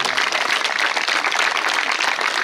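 A stadium crowd at a blind cricket event applauds the lined-up teams with a dense, continuous wash of clapping, loud and unbroken for a couple of seconds.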